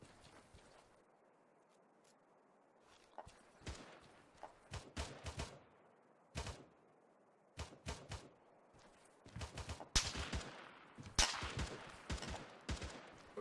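Gunfire in a military video game, sharp single shots and short bursts scattered irregularly, some quick pairs and clusters, over quiet background.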